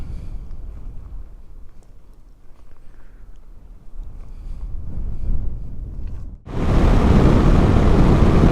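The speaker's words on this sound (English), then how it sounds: "It's freaking windy today" Strong wind buffets the microphone on a remote country road beside a Yamaha Tenere 700 adventure motorcycle, a low rumbling roar under quieter stretches that erupts into loud, continuous blasting over the final two seconds.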